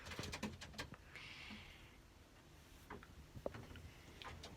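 Soft pigeon coos sound faintly among rustling and scattered clicks, with no voices.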